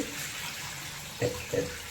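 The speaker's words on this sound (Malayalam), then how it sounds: "ഇതിൻ്റെ ഈ വെള്ളമൊക്കെ ഒന്ന് ഊറ്റിയേക്കട്ടെ" Water is drained off soaked arrowroot in a home kitchen, a soft steady pour of liquid with two brief louder splashes near the end, close and quiet with no talking.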